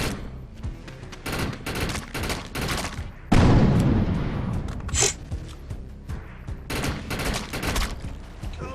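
Rapid gunfire, rocket launches and grenade blasts from an enemy in the video game Defiance, a continuous dense barrage of sharp cracks with one heavy explosion midway, loud and close throughout.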